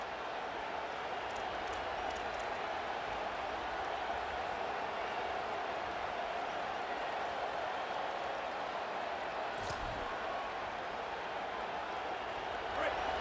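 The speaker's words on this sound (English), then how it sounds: "This crowd, full throat, splitting the eardrums" Stadium crowd noise from the EA Sports College Football video game at a Gamecocks game, a steady, loud roar of cheering fans that fills the whole stretch with no lull.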